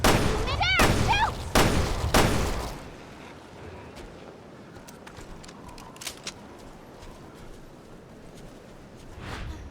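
Gunfire from the video game Resident Evil Revelations 2: several loud, sharp shots in quick succession open the clip, with a voice calling out over them, then a quieter, noisy game ambience with scattered faint clicks and taps.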